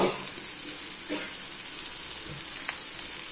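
Semolina-coated prawns fry in hot leftover oil in a pan, giving a steady, close hiss of sizzling with a few faint clinks and stirring touches over about three seconds.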